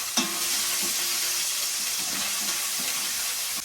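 Bitter gourd pieces frying in hot oil in a pan, giving a constant close hissing sizzle with a few faint stirring scrapes and no voices.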